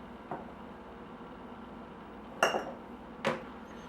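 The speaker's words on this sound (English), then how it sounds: "I'm just going to give them a little crush and then pop them in our jars here." Crushed garlic cloves for pickles drop into glass jars, giving one soft early tap and then two sharp glassy clinks close by in a quiet room.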